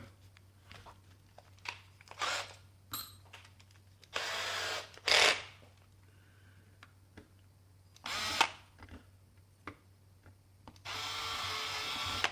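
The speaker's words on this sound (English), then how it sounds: "Now I use a 4-40 drill bit and tap." A 4-40 drill bit bores into a plastic Xbox One S controller shell. Several short, close drilling bursts of a second or two each come in irregular spurts, with quiet handling sounds between them.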